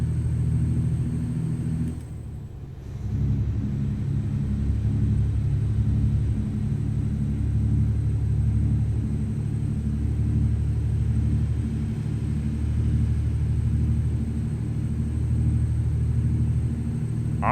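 A Detroit 60 Series diesel in a Freightliner Cascadia truck in American Truck Simulator gives a steady, low, droning rumble that holds throughout, with a brief dip near the start.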